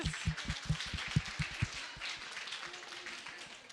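Applause and clapping from an audience of girls at a coding session, a burst of dense claps that starts loud and gradually thins and fades out.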